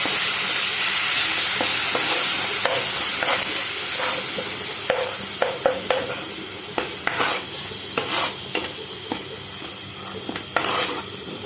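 Vinegar goes into a pan of spicy netholi (anchovy) fish pickle masala and gets stirred, giving a steady close sizzle with repeated sharp scrapes and clinks of the spoon against the pan.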